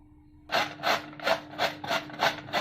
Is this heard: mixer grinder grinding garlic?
no